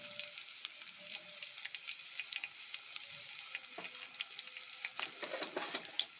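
Green chillies and onions fry in a pan, making a soft, steady sizzle with small scattered crackles and pops, fairly quiet and without voices.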